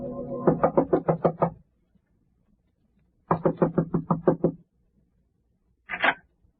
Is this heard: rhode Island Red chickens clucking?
no